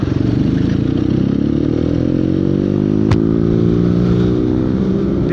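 BMW R9T motorcycle engine while riding: a loud, steady, close rumble with a throbbing drone that shifts slightly in pitch as speed changes, with one brief clank partway through.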